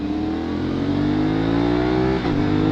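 Motorcycle engine revving hard at high revs in a quick shifter run, from either a 450SR or a ZX25R, on a night city street; a loud, steady rising drone with a brief dip as it shifts, then climbs again.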